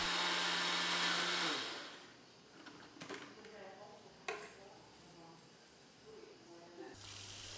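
A blender whirs loudly for over a second, blending bread crumbs and herb leaves, falls quiet while soft clatter and handling noises follow, then roars briefly again at the end.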